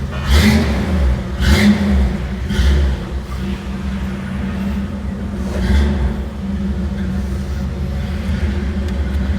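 An AMC V8 in a CJ5 Jeep with a modified exhaust revs repeatedly, deep rumbling bursts rising and falling in several throttle blips over a steady idle, loud and close.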